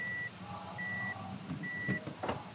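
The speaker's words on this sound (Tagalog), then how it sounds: "Sa reverse alarm naman, so once na nakalagay sa reverse position yung gear, may tunog na siya sa dashboard." Dashboard reverse alarm in a Mitsubishi Mirage G4, sounding as a steady electronic beep repeated about three times at an even pace, close and clear over a quiet cabin hum, with a little handling noise toward the end.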